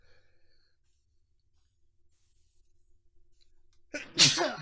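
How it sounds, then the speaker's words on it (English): One sharp sneeze bursts out near the end after a long near-silent pause, loud and close. "Longest sneeze ever."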